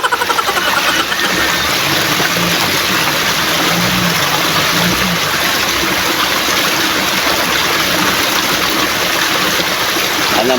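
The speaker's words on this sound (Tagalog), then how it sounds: "Malapit tayo sa may labasan ng Agos. Ayan ang tubig, ayan makikita niyo yan." River water flowing steadily near the outlet of a current at a fishing spot in Barangay Kalawaan, a loud continuous rushing wash filling the scene with no talk.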